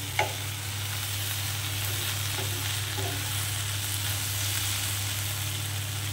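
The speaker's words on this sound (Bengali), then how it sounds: "এভাবে বাড়িয়ে কমিয়ে আমি খুব ভালো করে ভিন্ডিটা ভেজে নেব" Okra frying in a pan, a steady close sizzle of hot oil running throughout with a low hum underneath and a couple of faint clicks, no voices.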